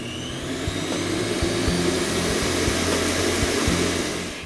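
An electric mixer whirs steadily as it beats eggs and sugar while butter is added, a constant close motor drone with a faint rhythmic knocking of the beaters, no talk.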